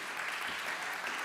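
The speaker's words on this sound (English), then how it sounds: "A round of applause for that program." Congregation applause at a Shabbat service for a 7th-grade program, a short, even burst of clapping heard fairly faintly across the room.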